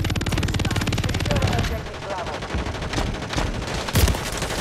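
Rapid gunfire in a Call of Duty match crackles loudly and almost without a break, dense bursts that merge into one another, with a few sharper shots near the end.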